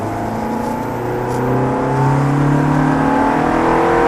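A Ferrari F430 engine pulls hard from inside the cabin on a track driving course, its whining tone rising steadily and growing louder as it accelerates.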